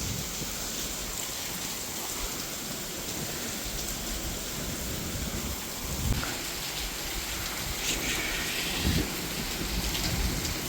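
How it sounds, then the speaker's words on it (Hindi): Steady heavy rain pours down with a constant hiss, and low rumbles of thunder roll in a couple of times in the distance. "तेज है बारिश तो।"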